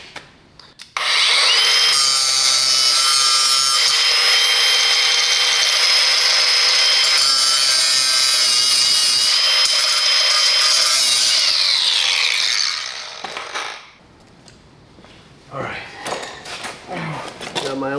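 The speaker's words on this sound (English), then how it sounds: "I gotta grind a slot in the bottom of that bolt." Power grinder cutting a slot into the bottom of a bolt during ball joint and tie rod work on a Polaris Sportsman 500 ATV, a loud continuous metallic screech for about twelve seconds that then winds down, with brief talk afterward.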